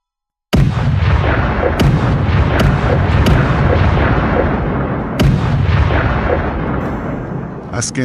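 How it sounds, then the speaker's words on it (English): Several sharp hunting rifle shots at a wild boar crack out one after another in a forest, each a loud close report with a long rolling echo, about five in eight seconds and no talk. "My shot cracked through the air, swift and lethal."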